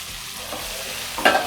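Chopped tomatoes are dropped into a hot pan of masala pasta base and stirred, giving a steady sizzle that flares into a brief, louder hiss near the end, with no one speaking.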